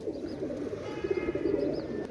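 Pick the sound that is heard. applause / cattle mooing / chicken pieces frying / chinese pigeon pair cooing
chinese pigeon pair cooing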